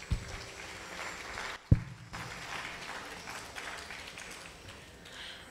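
Audience applause for an orchestra at a Bharatanatyam arangetram, a soft, distant wash of clapping from a hall crowd that continues steadily with a couple of sharp knocks.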